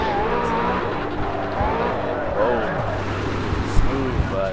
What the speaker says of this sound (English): This McLaren is really smooth.